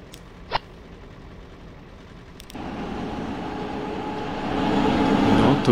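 A freight train in the video game Transport Fever 2 rolls in as a low rumbling drone that rises after a quiet stretch and grows steadily louder, preceded by a brief click.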